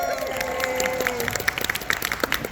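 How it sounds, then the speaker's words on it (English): Audience applause for Shelley at a training session: scattered claps build into a light, fairly faint patter of individual hand strikes, with a thin tone running underneath at the start. "so give her a big round of applause"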